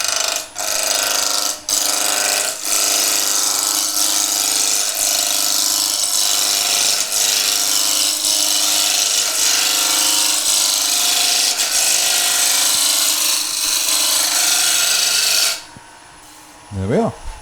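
A wooden spindle being roughed down on a lathe, the gouge scraping and chattering continuously and loudly with rhythmic ticks from the spinning blank, then stopping abruptly near the end.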